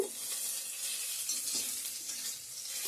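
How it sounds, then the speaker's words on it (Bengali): Bay leaf, dried chillies, onion, panch phoron and ginger sizzle in hot oil for a vegetable labra, a steady close frying hiss with faint stirring and no speech. "ফোড়ন দিয়ে দিচ্ছি তেজপাতা শুকনো লঙ্কা পেঁয়াজ পাঁচফোড়ন আদা দিয়ে দিয়েছি"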